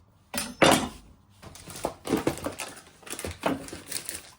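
A knife chops through a bell pepper on a cutting board with several sharp, close thuds and crunches, ending in a loose run of quieter cuts.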